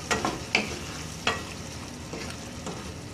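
Drumstick and potato sabzi with coconut stir-fried in a pan, a soft continuous sizzle punctuated by a few quick spatula scrapes near the start, close and moderately quiet, with no speech.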